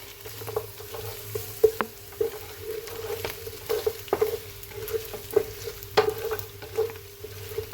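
Coarsely chopped garlic crackles and sizzles in a hot pan, with frequent small pops and stirring scrapes over a steady frying hiss; no voices.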